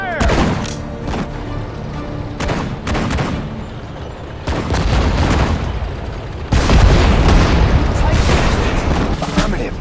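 Anti-tank guns and other weapons firing in the video game Sudden Strike 4 during a battle in the Hürtgen Forest, with repeated heavy booming shots and rattling gunfire in dense bursts, loud and close, and game voice lines mixed in.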